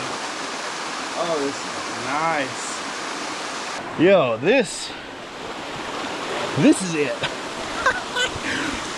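A waterfall at Beavers Bend State Park roars as steady, dense broadband rushing water, close and constant, while someone speaks over it briefly.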